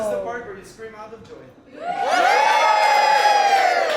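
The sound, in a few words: crowd screaming and cheering at an Albanian night show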